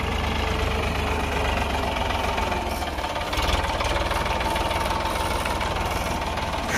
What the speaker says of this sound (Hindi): पीछे देखो मामा जी है ट्रैक्टर चला रहे हैं